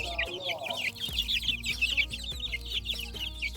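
Chickens cluck continuously around a rooster under inspection in a poultry yard, with busy overlapping calls close by and a faint murmur of people talking in the background.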